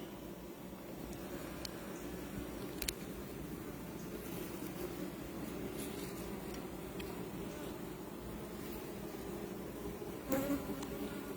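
Honey bees swarm around an open hive frame, a continuous soft buzzing drone that stays steady and close throughout, with a few small handling knocks.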